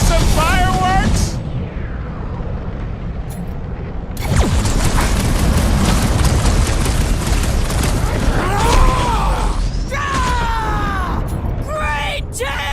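Explosions thunder in a Guardians of the Galaxy action game during a battle at Knowhere, a deep booming blast followed by sustained rumbling combat noise, with character voices shouting and talking over it.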